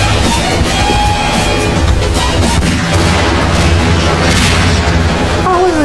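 Explosive barrels blow up in Garry's Mod, a loud, sustained barrage of booms and crashing blasts that fills the whole stretch.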